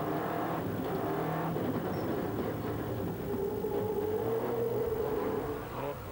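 Onboard a Ford rally car on a 1998 Monte Carlo World Rally Championship stage, the engine drones steadily with rising and falling revs and gear changes, heard from inside the cabin at moderate level.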